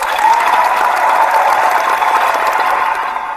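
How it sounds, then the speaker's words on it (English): Applause for tennis player David Ferrer after a title win, a dense, even wash of clapping that holds steady and fairly loud before fading slightly at the very end. "let's give David Ferrer a round of applause for winning another title."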